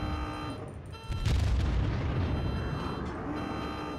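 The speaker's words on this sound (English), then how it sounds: "So these guns do sound a bit different because they are, in fact, a different caliber to the Cleveland" Main guns of the USS Pensacola cruiser firing in World of Warships, a deep booming salvo that swells into a long rumbling roar, loud and close with no voices.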